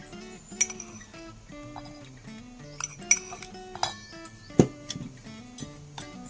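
Pistachio and sugar filling stirred in a bowl for pistachio makmor, with bright metallic clinks and taps of a spoon against the bowl at irregular intervals, close and clear, over faint background music.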